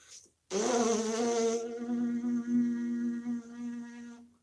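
A horn player buzzes the lips with the teeth held apart during a warm-up. The result is a steady, nasal, insect-like drone. It is loud and close, and its pitch holds fairly level and then wavers slightly over about four seconds, with no talking.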